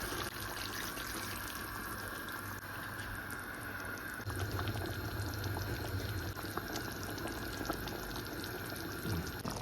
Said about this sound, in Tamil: அப்போ கொஞ்சம் தண்ணியை விட்டு கையால் அப்படியே கலக்கி போட்டு ஊற்றினோம்னா சரி.